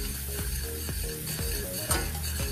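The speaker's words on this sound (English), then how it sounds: "now I'm gonna stir that in really well" A spoon stirring self-rising flour into a wet mixture, soft scraping strokes with a few sharp clicks against the pot, steady and close over a faint fizzing hiss, with no talking.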